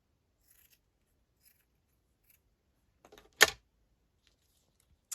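Scissors give a single sharp snip cutting the edge off a piece of lace, close and crisp in near silence, with a faint click or two around it.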